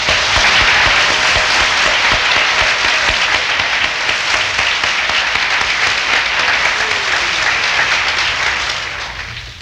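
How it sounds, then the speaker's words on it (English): A church congregation claps their hands in praise during a sermon, dense, loud applause sustained for nearly ten seconds before beginning to taper off at the end. "Let's give the Lord a hand clap."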